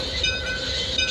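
Simulated Bangladeshi passenger train pulling into Chittagong station in a train simulator game, a steady rolling rumble with sustained high metallic wheel whine, continuous and fairly close, no voices.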